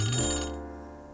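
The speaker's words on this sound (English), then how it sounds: "Is that the phone?" A landline telephone gives a single short, bright electronic ring that quickly decays, close and clear with no talking over it.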